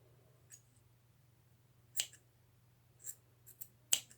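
Scissors snip through fursuit wig hair in a few quiet, crisp clicks spread out over a few seconds, with a faint steady hum underneath.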